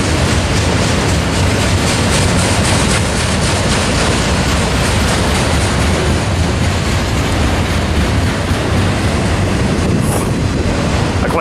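A BNSF freight train made up of autorack cars rolls past close by, producing a loud, continuous rumble and wheel clatter for the whole stretch.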